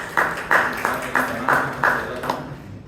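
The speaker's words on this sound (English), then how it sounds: "So let's give him a round of applause" Clapping at a Toastmasters meeting in Bangalore comes as a steady, rhythmic run of about eight crisp claps, close and fairly loud, then stops.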